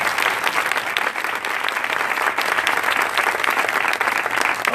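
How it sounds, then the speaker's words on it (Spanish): An audience at a TEDx talk on the ageing economy applauds steadily and fairly loudly throughout, a dense continuous clapping with no pauses. "yo creo que Manuel merece un aplauso"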